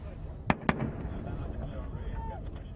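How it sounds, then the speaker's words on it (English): Two sharp, distant blasts of mortar fire and explosions during a firefight in Afghanistan crack out in quick succession early on, then fade into a low rumbling background. "And they just keep firing back. Mortars land just yards away."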